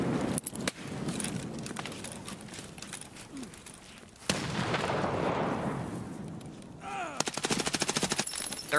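Gunfire in Escape from Tarkov, with scattered shots and bursts heard through a continuous rumble, ending in a loud rapid string of automatic fire near the close. No one speaks.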